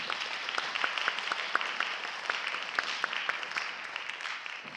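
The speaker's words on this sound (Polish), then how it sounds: "Raz jeszcze wielkie brawa dla zawodniczek." Moderate applause from an audience at a pole sport championship medal ceremony in Kielce, steady clapping for the female competitors with distinct sharp claps standing out over a continuous wash.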